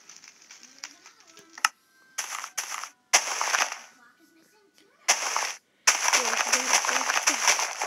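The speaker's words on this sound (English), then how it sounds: "We gotta blow this rocket up" Blocky rocket being blown up in Minecraft Pocket Edition, heard as a string of loud, sharp crackling blasts that come in separate bursts with short gaps, then one long roaring burst at the end.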